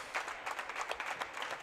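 Basketball fans applaud in a high school gym during a boys' consolation game, a steady spread of mid-volume clapping with crowd murmur lasting the whole moment.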